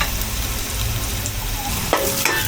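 Onion and garlic sautéing in a pan, a steady close sizzle with faint stirring scrapes and a couple of brief utensil clinks near the end; no talking.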